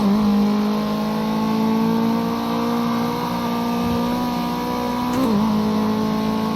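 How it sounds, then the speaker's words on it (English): A race car engine in the Project Cars 2 racing game at Oulton Park holds a steady high whine near peak revs, dipping briefly with a gear-change warble late on before settling back, continuous and loud with no talk. "when the engine reaches sort of max revs"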